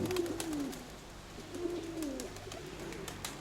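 A pigeon coos in two drawn-out, wavering calls, soft and fairly near, over a low steady background with no talking.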